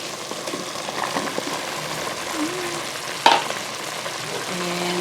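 Chicken and papaya simmering in coconut milk in a pot are stirred, giving a soft bubbling sizzle with gentle spoon movement and one sharp clink partway through.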